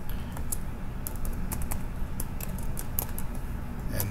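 Rapid, steady typing on a computer keyboard, a continuous patter of light key clicks at close range with no talking.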